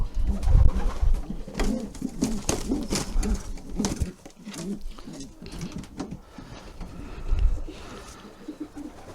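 Soft, repeated pigeon cooing close by, rhythmic low burbling calls, with some background noise and a quieter stretch midway.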